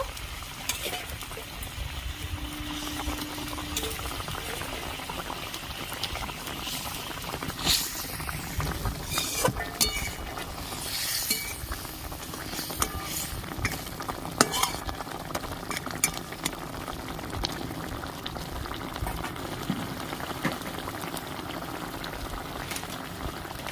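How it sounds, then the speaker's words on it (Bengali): Tel koi fish curry gravy bubbles at a boil in a pan, a busy close bubbling and sizzling texture throughout, broken by scattered clinks and scrapes of a utensil against the pan. "ঝোলটা ফুটে উঠেছে এবার আমি ভেজে রাখা মাছ দিয়ে দেবো"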